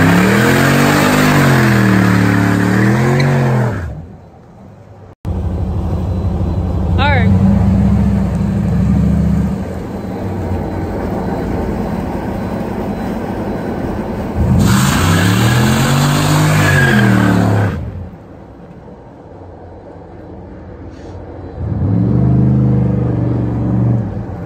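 Loud engine revving of a 2006 Chevrolet Monte Carlo SS doing a burnout, with screeching tire spin and roaring bursts, fading between pushes then returning, close by and sustained.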